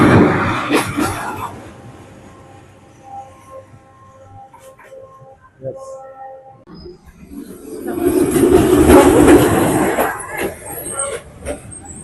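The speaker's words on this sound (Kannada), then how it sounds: "ಟ್ರೈನ್ ಬರಲಿಕ್ಕೆ ಸ್ಟಾರ್ಟ್ ಆಯ್ತು." A train moves along Hanoi Train Street between close-set buildings, rumbling loudly at first, easing into tonal horn-like notes, then swelling again into a near, heavy roar of wheels and carriages.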